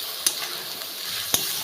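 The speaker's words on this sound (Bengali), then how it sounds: "সামান্য জল দিয়ে মশলাটাকে কষিয়ে নেব।" A coriander-cumin paste with chilli, turmeric and a splash of water sautés in a pan, giving a soft continuous sizzle broken by two sharp scrapes of a spoon stirring, close and fairly quiet.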